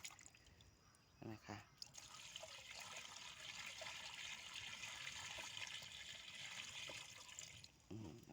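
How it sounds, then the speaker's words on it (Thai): Water pours steadily into a 20-litre tank, a continuous splashing gush, with someone talking at the start and end. "เทน้ำใส่ ให้เต็มถังเลยไหดที"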